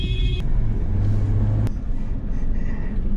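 A Jeep Wrangler Rubicon on the move, a loud steady engine and road rumble from inside the cabin with a couple of brief clicks.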